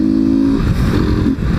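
Honda XRE 190 motorcycle fitted with a BMW 310 exhaust, revving close and loud on a street, a throaty engine tone that rises briefly then settles into a rough, rumbling idle.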